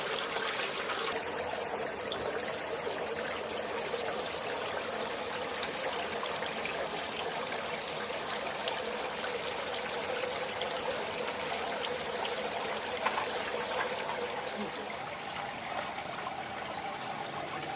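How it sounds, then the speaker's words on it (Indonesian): Water runs steadily through an opened bio filter on a home bucket fish pond, a continuous close trickling and splashing flow that holds the same level throughout with no speech. "ini kita buka biar airnya sirkulasinya jalan."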